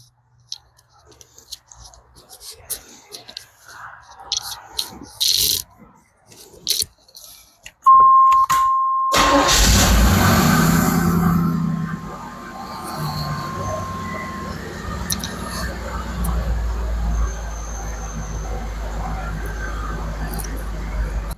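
A 1988 Chevrolet Camaro RS with its original exhaust cranks briefly and catches, then settles into a loud, steady idle that fills the rest of the stretch after some quiet handling noises at the start.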